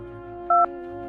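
A single telephone keypad tone beeps briefly and sharply in a quiet room while a call to the police is being dialed, over a steady low electronic hum.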